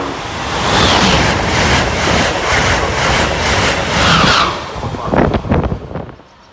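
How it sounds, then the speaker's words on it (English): Amtrak train on the Northeast Corridor approaching a station platform at morning rush, a loud sustained broadband rumble and rush of passing railcars, then a few sharp clanks as it fades toward the end. "Train approaching."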